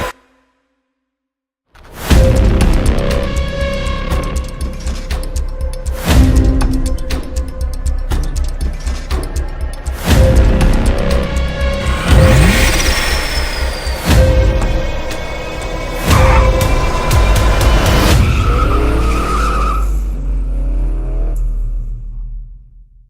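A supercharged 2017 Holden VF SV6 engine revs hard and repeatedly, loud and close, with rising and falling roars, supercharger whine and rumbling surges, starting after a brief silence and tapering off at the end.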